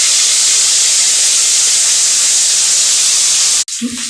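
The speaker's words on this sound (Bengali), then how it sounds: "এখন আমি ইলিশ মাছগুলো একে একে ভেজে নেব" Hilsa fish frying in hot oil in a wok gives a loud, steady broadband sizzle and hiss that runs unbroken for several seconds, then cuts off sharply and is followed by a brief softer sound.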